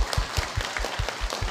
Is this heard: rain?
no